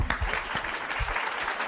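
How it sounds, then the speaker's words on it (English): Brief burst of audience applause at a workshop talk, a dense wash of clapping from a seated crowd lasting under two seconds, with no one speaking over it. "Second round of deserved applause."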